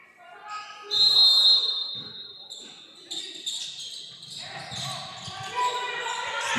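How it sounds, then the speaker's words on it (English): A referee's whistle blows with a sustained shrill tone during a girls' basketball game between Sacred Heart and St. Jude's, heard over crowd noise and an announcer's voice, with a second, fainter whistle later. "Whistle goes."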